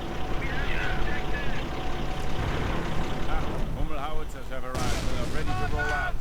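Hummel self-propelled artillery fires incendiary rounds in a World War II strategy game, booming explosions and battle rumble dense throughout, heard under continuous excited commentary.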